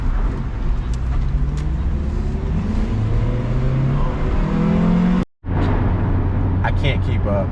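A BMW E92 M3 engine roars up close, revving hard and climbing in pitch, with a brief cutout near the end before the drone resumes.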